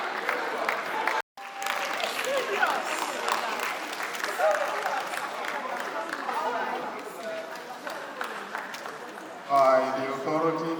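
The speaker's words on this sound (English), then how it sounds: "Please bring a round of applause as she comes forward." Sustained applause from an audience at a women in education award ceremony as an honoree comes forward, a dense, steady clatter of many hands with a brief break midway.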